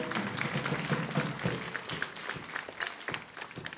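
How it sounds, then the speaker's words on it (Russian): A studio audience applauds at a televised lottery draw show, a dense, fairly faint patter of many hands clapping steadily for a few seconds. "Аплодируем."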